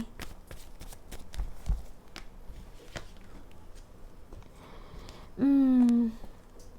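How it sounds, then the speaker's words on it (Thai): Tarot-style fortune teller's cards shuffled in a series of light riffling flicks, with one louder rising tonal sweep near the end; no speech. "แม่หมอเปิดไพ่ขยายขึ้นมาเนี่ย"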